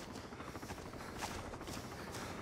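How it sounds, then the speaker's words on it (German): Russian military helicopter in the DayZ Origins game, a steady broadband rotor and engine roar with faint rhythmic blade pulses throughout, fairly distant and even in level, no talk. "das ist glaube ich dieser Russen-Heli, Mann"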